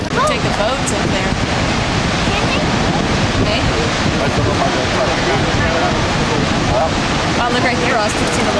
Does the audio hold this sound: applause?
no